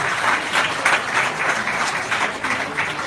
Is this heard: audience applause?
yes